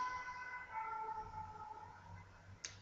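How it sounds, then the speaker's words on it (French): An emergency siren passes outdoors at a distance, a faint wailing tone rising and fading over low rumble, followed by a brief sharp click. "Excusez-moi pour la sirène."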